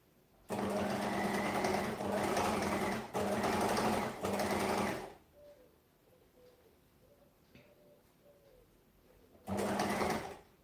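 A sewing machine stitches bias binding onto a front garment piece in several loud, steady runs separated by pauses, while a pigeon coos softly in the background.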